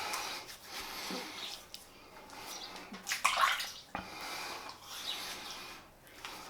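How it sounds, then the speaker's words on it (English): Cold water running in a bathroom sink and splashed onto the face after a wet shave, close and soft, with irregular splashes and a brief louder splash midway. "I'm literally just got cold water in the sink."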